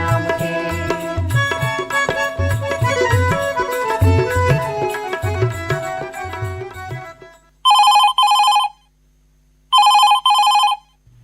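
A telephone rings for a Chhattisgarhi phone-in song programme, two loud electronic trill bursts sounding alone after a musical jingle fades out.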